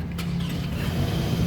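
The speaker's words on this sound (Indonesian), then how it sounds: "kita coba nyalakan mobil." A 2008 Toyota Camry 2.4 V automatic runs steadily after starting, a close, loud low engine drone with an even idle hum and no clear cranking burst.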